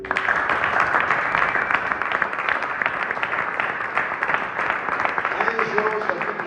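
Church congregation applauding the Lord, dense sustained clapping throughout, with voices and shouts mixed in under the applause.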